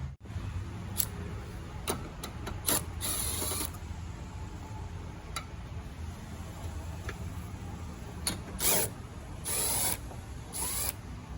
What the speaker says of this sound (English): You got two 10mm bolts there, so I'm gonna go ahead and remove those